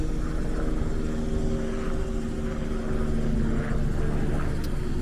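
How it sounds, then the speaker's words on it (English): A helicopter drones overhead above Rålis park in Kungsholmen, Stockholm, with a steady low rotor throb, moderately distant and constant, with no talking. "there's a helicopter flying over."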